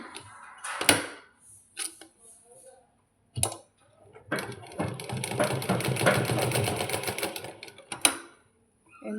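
A sewing machine stitches the side seam of a salwar in short rattling bursts, then runs in a longer steady stretch, close and clear, with someone talking between runs.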